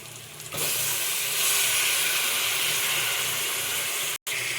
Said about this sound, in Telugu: పక్కన చేపలు కడిగేసి పెట్టుకున్నాం కదా, ఇవి ఇందులో వేసేస్తాను